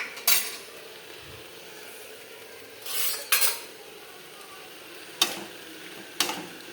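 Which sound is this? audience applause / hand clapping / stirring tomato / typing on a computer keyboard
stirring tomato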